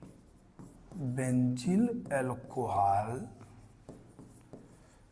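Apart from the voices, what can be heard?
writing by hand on a board or paper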